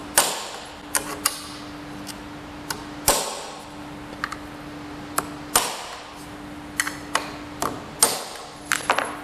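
Sharp metallic taps of a small hammer striking a nail, irregular bursts of several quick hits separated by short pauses, close and crisp.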